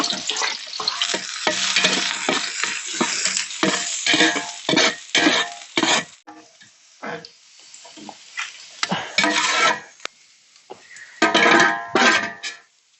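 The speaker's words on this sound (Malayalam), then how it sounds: "കുറച്ച് സവോള ഇട്ടിട്ട് നല്ല ഗോൾഡൻ ഫ്രൈ ആയിട്ട് എടുക്കണം." Sliced onions sizzle in sunflower oil in a pan, broken up by loud bursts of stirring and scraping with brief quieter pauses between them.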